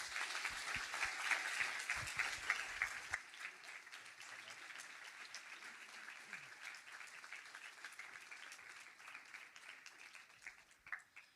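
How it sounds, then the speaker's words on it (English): An audience at a teacher-of-the-year address breaks into applause, loud and dense at first, then thinning to scattered claps that fade toward the end. "If you could join me again in a round of applause."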